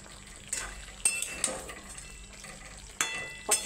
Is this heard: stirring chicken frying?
yes